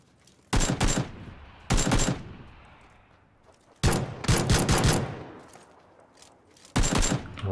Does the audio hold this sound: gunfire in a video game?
yes